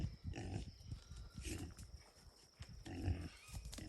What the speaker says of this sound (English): One of my pigs got out.